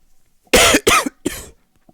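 Three sharp coughs in quick succession, close and loud, followed by a faint exhale.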